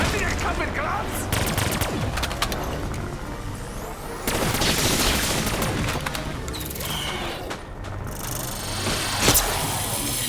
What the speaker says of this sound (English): Nothing can stand the intensity of my shield's flame!